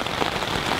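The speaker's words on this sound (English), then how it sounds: "now it's pelting down rain, just coming down like cats and dogs out there." Heavy rain pelts a campsite in Labrador's wilderness during a thunderstorm, a loud dense roar of drops drumming close by, continuous and without talk.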